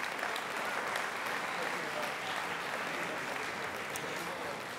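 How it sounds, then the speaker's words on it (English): A graduation ceremony audience gives steady, sustained applause as faculty leave the stage, a broad, even wash of clapping from a large crowd in a big hall. "we can give them a round of applause for coming up here"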